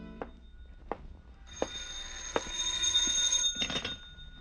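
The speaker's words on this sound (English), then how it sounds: "and a phone ringing that came from the phone." An old-time radio drama telephone rings with a bright, buzzing bell tone after several faint clicks and knocks, moderately loud and near, with no talk over it.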